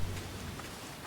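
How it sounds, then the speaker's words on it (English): Ambient rain in the video game Thronebreaker: The Witcher Tales makes a steady, dense hiss of falling rain with a low rumble beneath it, moderately loud and with no talking. "I love the sound of the ambient rain right now."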